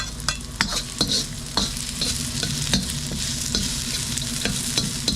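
Garlic sizzles in a frying pan while a utensil scrapes and stirs it in repeated sharp strokes, with a continuous loud crackle underneath and no one speaking.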